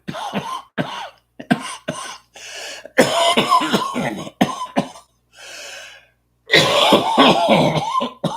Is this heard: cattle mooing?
no